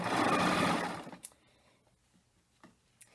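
Serger overlock sewing machine stitching and trimming fabric with its knife, a loud rapid mechanical whirr for about a second, then stopping, leaving a few faint clicks and handling noises.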